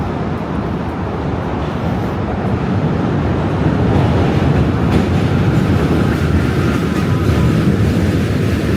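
A train rumbles past steadily in New York City with a low, continuous roar and faint rhythmic clatter, loud and close, growing slightly heavier midway.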